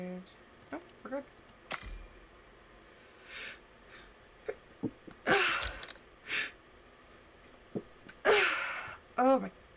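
A single sharp sneeze bursts out between scattered close-up talk, breathing and small handling noises, with a few further loud vocal bursts and groans later on.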